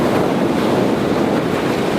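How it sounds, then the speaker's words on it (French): Ocean surf rolling onto a beach in Crete, a steady close roar of breaking waves mixed with heavy wind buffeting the microphone, with no voices. "Vous voyez peut-être les vagues arriver derrière."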